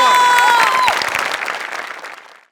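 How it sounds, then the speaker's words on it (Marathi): Enthusiastic applause from a studio audience, loud at first and then thinning and fading away over a couple of seconds, with faint crowd noise. "या एफर्टसाठी जोरदार टाळ्या"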